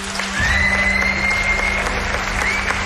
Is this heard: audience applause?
yes